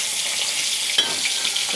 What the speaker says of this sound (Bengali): হয়তো হালকা করে ভেজে নিলাম